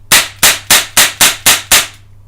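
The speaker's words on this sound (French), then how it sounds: "le blowback est bon" A CZ75 Duty gas airsoft pistol with blowback fires seven sharp, loud cracks in a quick, even rhythm, each with a short snapping decay. The shots end abruptly, followed by near silence.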